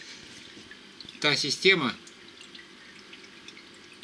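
An Aquael MAXI KANI 250 external aquarium filter lets out a short, close burst of trickling, bubbling water that lasts under a second, set between quiet stretches with someone speaking softly.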